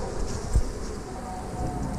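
Honeybees hum at the hive entrance, a steady close buzzing drone with a brief bump partway through.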